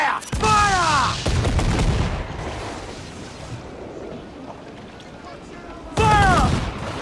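Ship cannons fire in Assassin's Creed 4 Black Flag with loud, booming volleys at the start and again near the end, rolling rumble between them and voices shouting over the blasts.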